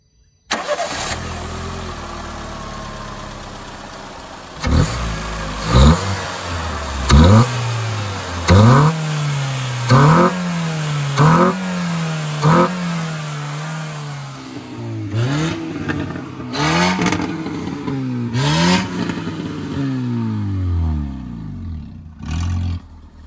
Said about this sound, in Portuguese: esse é o ronco do carro